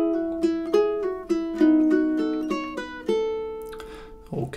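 Ukulele playing measures 11 and 12 of the classical piece "A Little Flower" at mezzo forte, plucked notes and double stops ringing out one after another, clear and close.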